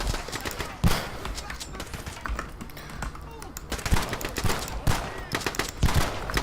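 Repeated shotgun blasts in the video game Shots Fired: Overkill hit at irregular intervals, loud and close, amid busy game noise with a voice talking over the action.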